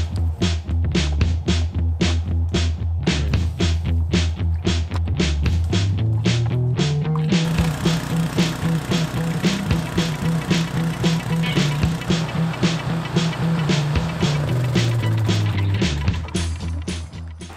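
A Honda lawn mower engine idles to warm up, a steady close-range putter with a regular pulsing beat that rises briefly in pitch, then settles back to a constant drone.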